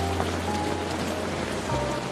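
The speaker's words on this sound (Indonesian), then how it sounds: "di tengah guyuran hujan deras itu" Steady heavy rain pours down across the whole stretch, a dense continuous hiss close by with a faint low hum underneath and no voices.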